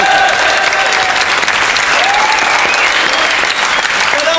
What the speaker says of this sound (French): Je propose qu'on l'applaudisse.